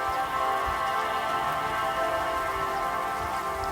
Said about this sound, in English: Allow the sound of the raindrops to come into your body